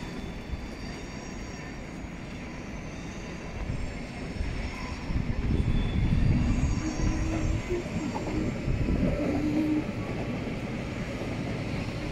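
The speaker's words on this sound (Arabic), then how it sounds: "هنايا اكبر سكه حديديه تاع القطار في مدينه زيوريخ سيتي." A train at a large railway station in Zurich city, heard as a steady low rumble of rolling cars and wheels on track that swells slightly midway, with faint high squeals and distant voices in the station.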